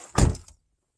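A door swinging shut with a single short, dull thunk close by, followed by silence.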